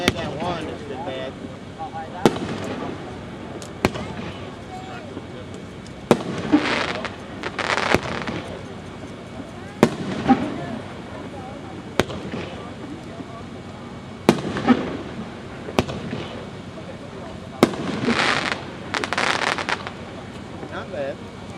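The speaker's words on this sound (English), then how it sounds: "This is a 9-shot rack." A Dominator Fireworks 9-shot rack fires at a fireworks demonstration: roughly nine sharp, loud bursts spaced a couple of seconds apart, each followed by brief crackling, outdoors with light wind noise between shots.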